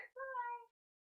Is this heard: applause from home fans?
no